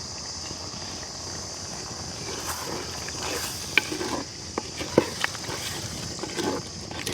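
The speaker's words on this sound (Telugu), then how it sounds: "రొయ్యలు బాగా ఉడకతా ఉన్నాయి." White prawns with red legs simmering in a pan with coriander, pepper, cinnamon and clove powder: a steady, moderate sizzle with occasional stirring clicks and scrapes, and no talk over it.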